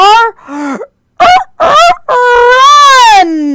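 A voice imitates a rooster crowing, with a few short rising calls then a long drawn-out crow, close and loud.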